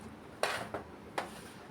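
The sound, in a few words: knife cutting jackfruit into small pieces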